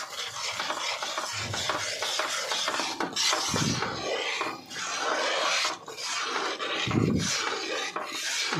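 A spoon scrapes and stirs a thick Mysore Pak mixture cooked with ghee in a pan. The rasping, rubbing strokes run continuously and close up, with a few heavier scrapes, and no voice is heard.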